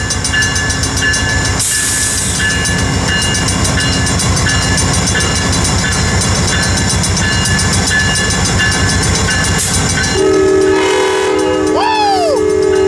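Amtrak train 190 pulling out of Carlsbad Village station, a loud, steady rumble and clatter of rail cars up close, then a sustained horn blast near the end with a falling whistle-like tone over it.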